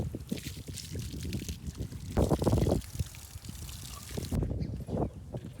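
Irrigation water gushing and trickling into a groundnut field, a close, rough, burbling flow that swells midway and keeps running with faint background sounds.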